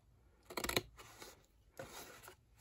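Scissors cutting through card along a score line: a few quiet, close snips and crisp slicing strokes with short pauses between them, in a quiet room.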